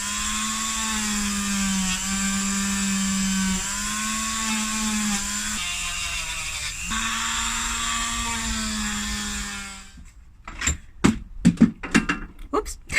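A Dremel rotary tool whines steadily while polishing metal jewellery hoops, its pitch dipping briefly under load, then cuts off and is followed by several sharp handling clicks and knocks.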